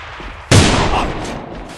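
A grenade goes off in a sniper shooter game, a sudden loud close blast with a rumbling tail that fades over about a second.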